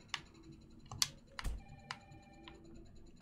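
Telephone in the video game Resident Evil 3 ringing with sparse electronic tones, interspersed with clicks and short tonal blips, faint and intermittent against a quiet background.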